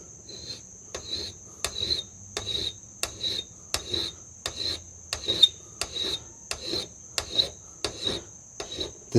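Wood is sanded by hand with sandpaper at a workbench, a steady series of about a dozen rhythmic rasping strokes heard close and evenly spaced, over a constant high ringing tone.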